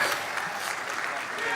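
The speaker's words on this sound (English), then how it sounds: "give them a huge, loud TON gateway round of applause" Brief burst of crowd applause at a conference event, a dense wash of clapping heard close with a voice speaking over it.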